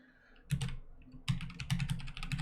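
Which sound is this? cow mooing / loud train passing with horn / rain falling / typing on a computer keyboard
typing on a computer keyboard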